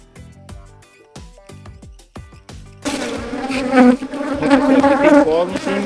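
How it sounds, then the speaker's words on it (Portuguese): A strong queenless swarm of Apis honey bees buzzes loudly and densely up close, rising in after a few seconds of softer, sparse tonal notes and holding steady to the end. "muita abelha, enxame, muito forte mesmo"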